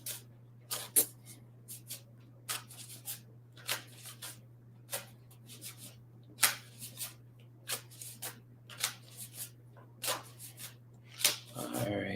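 A deck of cards is shuffled in repeated quick riffling bursts, soft and close, against a low steady hum in a quiet room.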